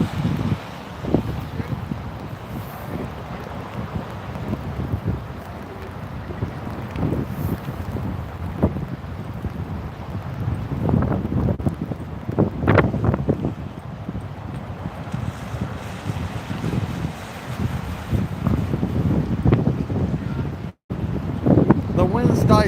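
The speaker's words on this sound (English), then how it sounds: "That last gust was insane." Strong wind gusting outdoors at a street protest in Portland, buffeting and roaring across the microphone in irregular surges, with people talking throughout.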